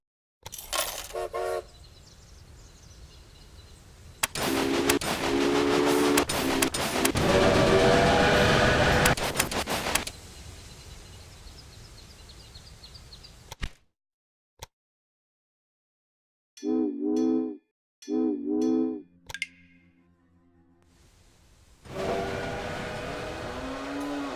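A locomotive in the video game Railway Empire gives several loud horn and whistle toots between stretches of rumbling engine and rail noise, with abrupt cuts and near-silent gaps.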